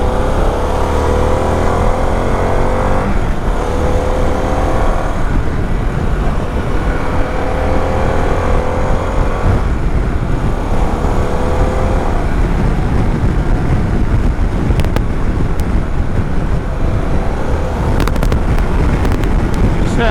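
A 2022 Harley-Davidson Pan America Special motorcycle accelerating hard through an overtake in fifth gear on a test ride, a loud, continuous engine drone swelling in pitch, heavily buffeted by wind roar throughout.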